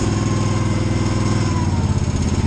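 A Mammoth MT 2850 track carrier's small engine runs at a steady, loud idle, warming up just after the choke is shut off, with an even throbbing pulse throughout.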